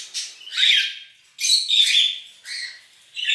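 Pet birds at home squawk in repeated bursts from harlequin, pearl grey, albino and white-faced colour-mutation breeding pairs, loud harsh calls close by with short pauses between and no talking.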